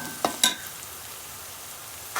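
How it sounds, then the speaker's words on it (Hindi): Garlic and ginger frying in a pan for a chicken and pumpkin curry, a continuous close hiss of sizzling oil broken by two or three quick stirring clicks early on and another near the end. "लहसुन अदरक फ्राई हो चुका है।"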